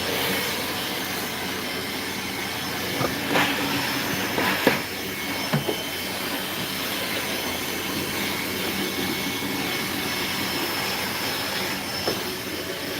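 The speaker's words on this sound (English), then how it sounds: "Look at this dirt. Just easily being sucked up." A vacuum cleaner runs steadily on a countertop inside a Ford Transit campervan, a constant loud whooshing drone. Occasional ticks and rattles come through as dirt is sucked up, and there is no talking.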